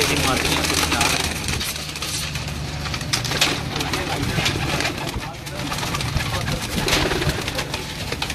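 Low cooing of a flock of fancier's pigeons, including hens and a large cock, rolls on continuously beneath a voice, with a faint engine-like hum in the background.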